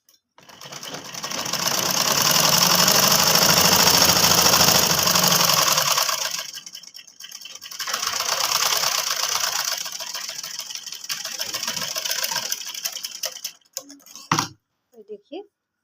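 A sewing machine stitches a kurti trouser seam in a loud buzzing burst of several seconds, then runs again in shorter, uneven bursts with pauses and small handling clicks between them.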